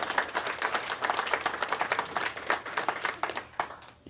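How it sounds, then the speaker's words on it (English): A small comedy club crowd claps for a guest, a close, rapid patter of individual hands with uneven rhythm, fairly loud and alone without voices. "Give her a round of applause."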